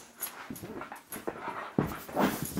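An old dog whimpers and pants indoors, soft whines and short breathy pants in uneven bursts, close and fairly quiet.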